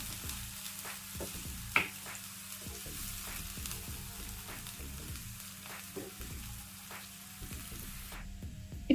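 Sliced onions and three green chillies fry in oil in a pan, browning with a steady, close sizzle and crackle, broken by frequent light scraping and tapping of a stirring spoon.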